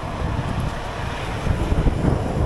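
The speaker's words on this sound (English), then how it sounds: "Weather's holding, it's windy, but it's keeping everything dry" Steady wind blows across an outdoor building site where face bricks are being laid, a constant rough rumble and microphone buffeting that swells slightly toward the end, with no voices.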